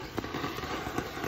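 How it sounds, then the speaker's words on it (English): Fireworks crackling and popping outdoors at a Fourth of July backyard celebration, with a rapid string of sharp, close bangs and crackles running continuously through the moment. "we got some fireworks going on in here"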